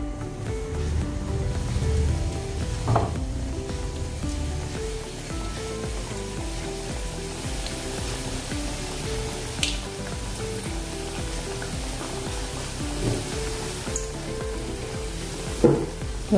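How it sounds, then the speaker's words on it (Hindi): Halwai-style khasta kurkura nasta, a crispy tea-time snack, frying in oil over a low flame gives a steady, dense sizzle with occasional soft stirring knocks, close and continuous throughout. "और धीमी आंच पर इसको तलेंगे"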